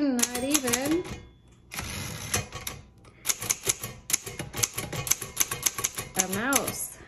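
Rapid clacking keystrokes from a 1956 Underwood Universal manual typewriter, with a bell ding and carriage movement, typed close up while a person talks over much of it.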